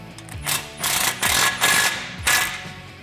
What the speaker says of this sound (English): set your clamp into place and tighten it down